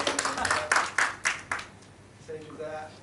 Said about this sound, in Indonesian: itu kita kasih tepuk tangan yuk,